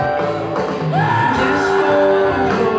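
Group of workshop participants shouting and wailing together during an acting exercise on crying and screaming, a loud, dense crowd of overlapping yells with rising cries, sustained throughout.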